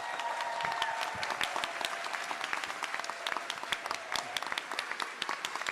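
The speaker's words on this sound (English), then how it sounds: "Round of applause." Audience applause at a labor justice panel welcoming a speaker, a crowd clapping steadily with some sharper individual claps near the front, sustained for several seconds.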